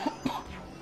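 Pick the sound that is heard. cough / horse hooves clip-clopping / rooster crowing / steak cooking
cough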